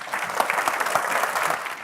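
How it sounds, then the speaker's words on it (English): A keynote audience at a London tech conference breaks into steady applause, dense and fairly close, with many hands clapping continuously and no speech over it. "we can have a warm round of applause"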